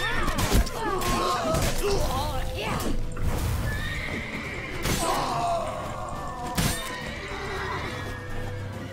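In The Witcher 3, a horse's hooves clip-clop rapidly at a gallop, with sharp neighs and whinnies breaking through, under a dense mix of game effects and voices talking.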